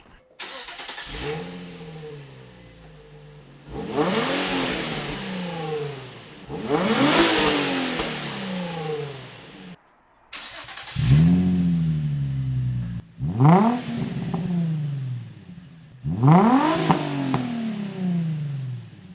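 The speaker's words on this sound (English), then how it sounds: "now you guys know what an eBay exhaust sounds like on a stock 350Z" A stock Nissan 350Z fitted with an aftermarket eBay dual exhaust revs five times in a row. Each loud, close burst climbs sharply and falls back to a low idle rumble between pulls.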